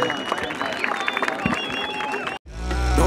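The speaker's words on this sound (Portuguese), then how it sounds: "Palmas pra Nath, por favor, família!" Crowd cheering and clapping at a rap battle at Batalha da Aldeia in Barueri, a dense, loud roar with a beat underneath, cut off abruptly before a deep bass beat kicks in.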